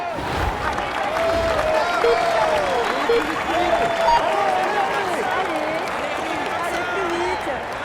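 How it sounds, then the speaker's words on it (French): Roadside spectators clap and cheer for a Tour de France individual time trial rider at the start, a continuous crowd wash under an announcer talking loudly over it throughout. "On l'applaudit bien fort."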